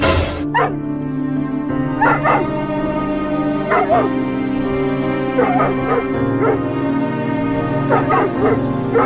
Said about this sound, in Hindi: देखो ये कुत्ता कुछ ज्यादा ही रो रहा है।